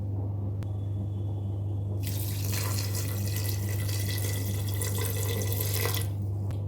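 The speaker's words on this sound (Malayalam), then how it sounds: "ആവശ്യത്തിന് വെള്ളം കൂടെ ഒഴിച്ചു കൊടുത്തോളാം" Water pours steadily into a pot of lentils with tomato and onion, a rushing splash that starts after a quiet kitchen hum and runs for several seconds before cutting off, close and with no talk.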